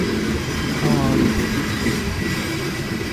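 A Union Pacific freight train rolls past with an AC-44 DPU locomotive in Building America paint, on the B&O Willard sub at Fostoria, Ohio: a loud, steady rumble of cars and wheels, close and continuous.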